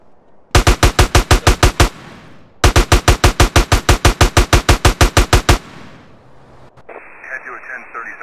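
Rapid automatic gunfire in the video game GTA San Andreas rattles out in two long, loud bursts of evenly spaced shots with a brief gap between them, followed by a short crackle of police radio.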